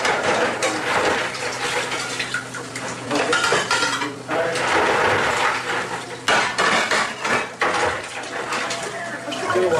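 Dishes are washed by hand in a home kitchen in Québec: a continuous, busy clatter of pots, pans and cutlery knocking together with some running water, close and fairly loud throughout.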